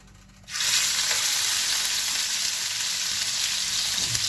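Marinated lamb ribs dropped onto a hot grill burst into a loud, steady sizzle that starts suddenly and holds close and even, with no voices over it.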